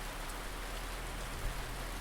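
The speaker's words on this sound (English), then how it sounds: "Heavy rain poured down like nails against the hotel's tin roof." Heavy rain pours steadily onto a hotel's tin roof on a quiet night, a dense, even hiss of drops drumming without pause, moderately loud and alone.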